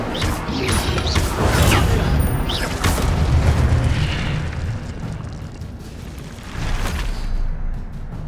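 An Incendio fire spell in Hogwarts Legacy blasts repeatedly in loud bursts: booming fiery whooshes and crackling impacts one after another, with a spell-cast voice faintly under the mix.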